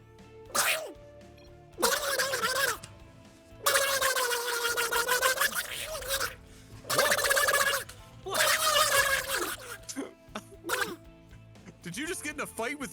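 A man imitates ducks with loud, nasal quacking bursts in several rhythmic clusters separated by short pauses, close and prominent.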